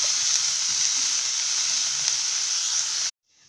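Vegetables seasoned with salt sauté in a pan with a loud, continuous, even frying hiss that cuts off abruptly near the end.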